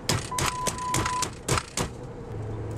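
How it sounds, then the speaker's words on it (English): A car's warning chime beeps inside the vehicle, a thin steady tone held for about a second amid clattery cabin noise and bursts of activity, with a low hum near the end. "This car would stop beeping!"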